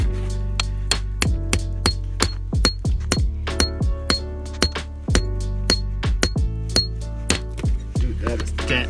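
A hammer strikes a chisel again and again to split agate geodes outdoors, loud close metallic clinks in a steady rhythm with sharp ringing hits and a low drone underneath.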